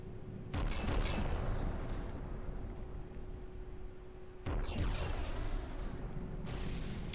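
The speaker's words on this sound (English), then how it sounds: "25cm size explosions" Large 25cm gun shells exploding in the naval combat game From The Depths, two heavy booming bursts about four seconds apart over a steady low mechanical hum, with no talking.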